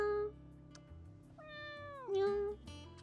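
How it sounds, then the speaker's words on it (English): A pet cat gives a few clear, close meows with rising and falling pitch, including one long drawn-out cry, and brief quiet gaps between calls and no talk. "Do you hear my cat, by the way, when she meows?"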